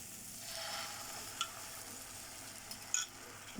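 Egg mixture poured into a hot pan with tomato and onion, giving a soft, continuous sizzle with a few small ticks and pops, fairly faint and with no voices.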